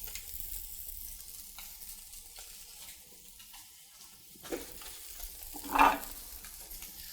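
Fish frying in clarified butter, a soft steady sizzle with stirring and scraping that swells briefly near the end, fairly close and quiet, with no talking.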